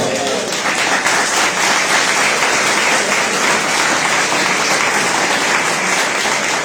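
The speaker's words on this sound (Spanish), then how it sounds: "denle el aplauso al Señor." A church congregation applauds the Lord during a Sunday service, a dense, sustained roar of many hands clapping, loud and continuous, with voices faintly mixed in.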